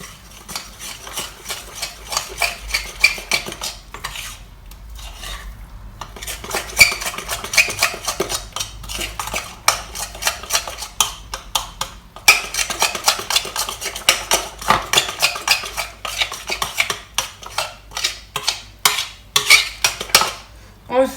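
A spoon stirs pancake batter with melted butter in a bowl, rapid repeated clinks and scrapes against the bowl in an uneven rhythm for about twenty seconds, close and fairly loud.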